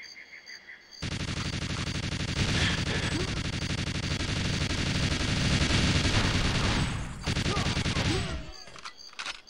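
Dense, continuous automatic gunfire rages during a GoldenEye 007 boss fight, loud and close, holding almost unbroken for several seconds before cutting off abruptly near the end.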